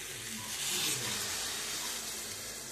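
Water poured over rice that has been fried in a pan for a fish-head muri ghonto gives a loud, steady hissing sizzle that swells briefly near the start and then holds evenly, with no voices.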